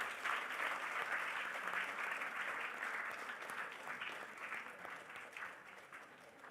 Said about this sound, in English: Could we get a big round of applause